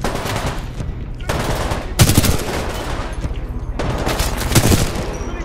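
Rapid bursts of automatic gunfire in Titanfall 2 while shooting enemies, several loud sustained volleys separated by short gaps, close and dominant throughout.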